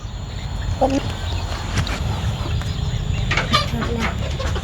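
Chickens cluck near a coop at a Thai rural home while settling in for the evening, scattered clucks and calls over a constant insect drone, with voices talking nearby.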